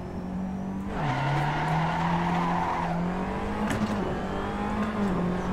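Racing car in a racing video game spinning its wheels around 5008 rpm, a loud steady engine drone with squealing tyre slip and small shifts in pitch, continuous without talk.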